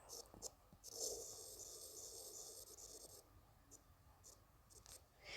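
A pen scratches steadily in close, continuous strokes during a digital drawing, with soft breaths and faint rustling around it.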